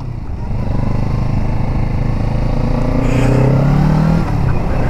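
A Kawasaki Z650RS motorcycle engine hums loud and close while riding, its low drone climbing in pitch as the bike accelerates, with wind rush over the top and no talk.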